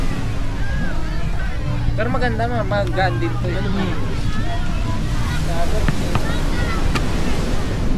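Surf washing onto a beach at Morong, Bataan, a steady broadband rush with gusts of wind while people chat close by over it.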